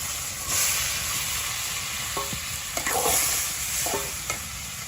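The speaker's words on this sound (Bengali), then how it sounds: "তেল হয়ে গেছে, তো মাছগুলো দিয়ে দেওয়া হইতেছে" Fish, likely prawns, frying in hot oil, a steady loud sizzle throughout with a few sharp clinks and scrapes of a utensil against the pan.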